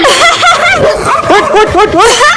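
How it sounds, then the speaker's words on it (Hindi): A dog chasing someone gives loud, close yipping barks and whines in quick succession, with possible voices mixed in. "कुत्ता कुत्ता कुत्ता।"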